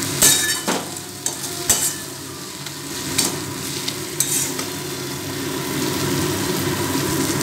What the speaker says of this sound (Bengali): এটা প্রায় 3 মিনিট মতো মিডিয়াম ফ্লেমে রেখে কষাতে থাকব কিন্তু বারবার করে এটাকে নাড়তে হবে